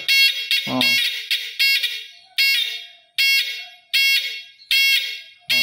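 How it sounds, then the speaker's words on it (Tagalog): A loud, shrill electronic 12-volt buzzer on a DIY earthquake alarm sounds in repeated pulses of about half a second, with a brief clunk near the start. "Yan ang aking DIY na earthquake alarm."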